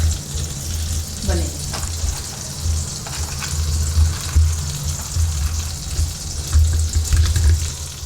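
Whole spices crackle and fry in butter and oil in a kadhai, a steady close sizzle with low rumbling clatter running throughout, no voices.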